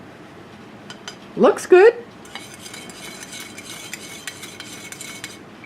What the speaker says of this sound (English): let's go ahead and stir up this orange drink mix